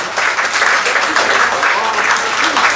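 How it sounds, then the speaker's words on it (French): A crowd at a Paris 13 restaurant event applauds loudly and steadily, dense clapping continuing without a break from start to finish. "On applaudit très fort Richard Vergne"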